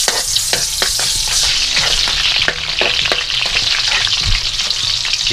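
Garlic and onion fry loudly in a hot pan, a dense steady sizzle with occasional stirring scrapes and clicks, close up and continuous with no voices.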